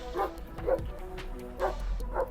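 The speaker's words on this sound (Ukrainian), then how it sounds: "Пес гавкає." A dog barks at a truck yard beside a large sugar factory, four short barks spaced unevenly over steady low machinery rumble, moderately close.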